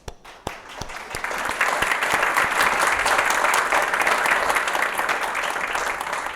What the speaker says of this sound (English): A great round of applause for him.